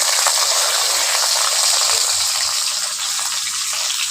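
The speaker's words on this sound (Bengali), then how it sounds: "ওই টমেটোর কুচিটা ওর মধ্যে দিয়ে দিচ্ছি" Chopped tomato dropped into hot oil with popping mustard seeds, giving a loud, continuous close-up sizzle and hiss that holds steady throughout with no voices.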